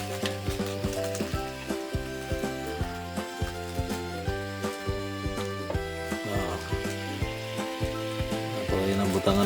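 Tilapia fries in a pan with a steady sizzle and crackle, while clinks and stirring knocks ring out over it in a regular rhythm.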